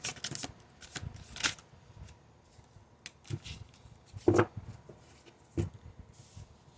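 Tarot cards being shuffled by hand, a series of crisp riffling bursts and soft slides at irregular intervals, close and dry, with quiet rubbing between the louder flurries and no talk.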